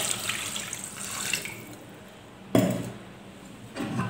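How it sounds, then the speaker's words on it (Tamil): Water pours steadily into a pressure cooker for a couple of seconds, with a sharp clank and quieter rustling near the end. "ஒரு செம்பு அளவுக்கு நம்ம தண்ணி ஊற்றிக்கலாம்."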